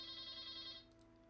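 A telephone rings with a steady electronic tone for about a second, fairly loud in a room with a low background hum, then cuts off and leaves faint chirps behind.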